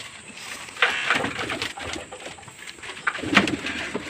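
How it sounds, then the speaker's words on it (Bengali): Pigeons in a loft cooing, soft low coos repeated at irregular intervals, close and fairly quiet against a faint background. "চলুন পায়রাগুলোকে আজকে খেতে দেবো"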